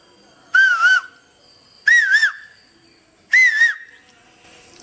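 A person whistles an imitation of an Asian koel call: three separate rising, wavering whistled phrases, evenly spaced, loud and close with no other sound.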